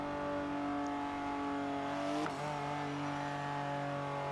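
A race car engine in the Forza 7 video game holds a steady, humming drone that shifts pitch abruptly midway, like a gear change, then settles again; moderately quiet with no talk.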